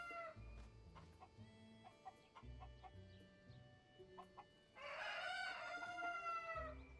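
Cuckoo chickens in Zelda: Tears of the Kingdom cluck in short repeated bursts, then break into a louder, longer crow near the end, fairly close and with no talk over them.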